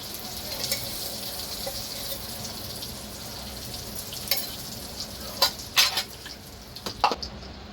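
Butter melting into white cooking oil in a wok while making Nawabi paneer gives a steady, moderate sizzle, broken near the end by a few sharp clinks of a utensil against the pan; no one speaks.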